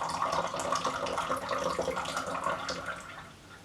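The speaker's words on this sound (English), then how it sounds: "and let's pour it out" Sparrow's Tongue tea pours in a steady, splashing stream from a high pour into a cup, a close continuous liquid trickle that tapers off slightly at the end.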